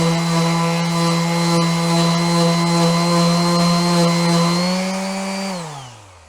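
A Stanley electric sander whirs at a steady pitch sanding wood, then winds down and fades as it is switched off.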